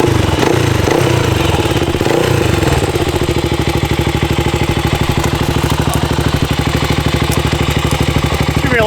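A Honda XR 400 motorcycle engine running close up, a loud, steady thumping idle with rapid even pulses, slightly uneven and revving in the first few seconds before settling.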